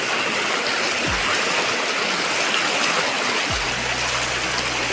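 Flood water surges steadily along in a continuous broadband rush, loud and close, with no voices over it.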